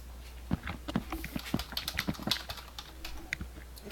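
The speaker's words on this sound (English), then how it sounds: "I'm still hearing a lot of typing noise" Rapid typing on a computer keyboard coming through a voice chat, a quick irregular clatter of keystrokes, faint and slightly distant with a low hum underneath.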